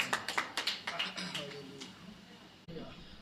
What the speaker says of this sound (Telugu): చప్పట్లు కొడుతూ ఆయన ఆహ్వానించాం.